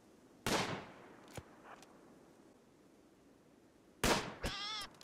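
Gunfire in RimWorld killing a lone iguana on a desert map, two sharp, loud cracks several seconds apart over a quiet background, the second followed by a short wavering squeal, with no talking.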